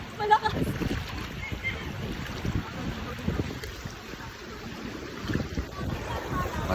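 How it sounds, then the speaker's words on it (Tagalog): Strong floodwater current rushes steadily during a monsoon flood, a broad continuous wash of turbulent water with wind buffeting close by, while voices talk over it. "Lakas ang agos. Malakas."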